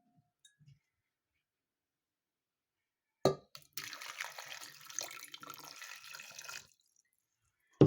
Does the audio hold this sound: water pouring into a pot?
yes